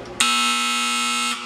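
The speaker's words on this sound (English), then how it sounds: "There is a test button here that I'm just going to simulate if it were to go into an alarm." An ejector pump alarm, triggered with its test button, gives a loud, steady electronic tone that lasts about a second, close by and alone.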